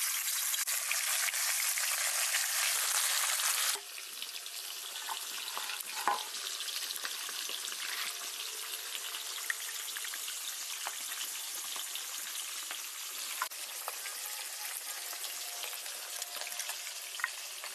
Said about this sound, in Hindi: अब हम थोड़ा थोड़ा करके पीस को फ्राई करेंगे।